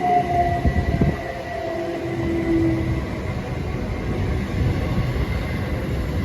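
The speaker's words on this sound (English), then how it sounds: "coming through is a passing service from Swansea to London Paddington" A Swansea to London Paddington service passes through Didcot Parkway station, giving a steady, continuous rail roar. Faint sustained horn-like tones sit on top of the noise.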